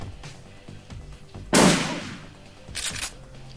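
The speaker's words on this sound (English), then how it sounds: "Shoot him again." Gunfire in the video game Shadowrun Returns: a loud, sharp shotgun-like blast bursting out mid-clip over quiet game ambience, followed by a second, fainter shot moments later.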